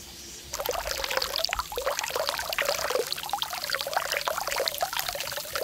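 Water pours steadily into an outdoor hot spring bath in Okinawa, a close, continuous splashing trickle that begins abruptly and carries on without pause.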